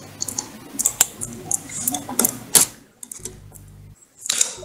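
Fast, uneven keystrokes on a computer keyboard during a Minecraft play session, clattering in bursts with short pauses between, close and moderately loud, with a low hum in the gaps.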